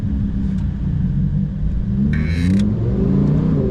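Lightweight sports car engine accelerating, a deep, steady rumble rising gradually in pitch from inside or near the car, with a brief hiss partway through.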